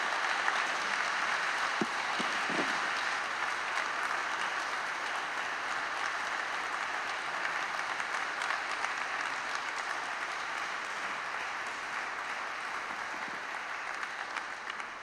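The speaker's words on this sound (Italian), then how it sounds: "E li accogliamo con un altro caloroso applauso," Warm, sustained applause fills a cathedral in Oderzo as a choir walks in, a dense, even patter of many hands holding steady at moderate loudness throughout with no voices over it.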